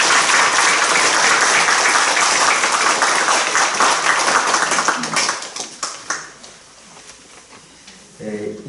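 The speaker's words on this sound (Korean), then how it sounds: "우리 함께 환영하는 마음 다시 한번 박수." An audience at a Korean welcome gathering bursts into loud, dense applause close by, holding strong for about five seconds before thinning into scattered claps and fading out.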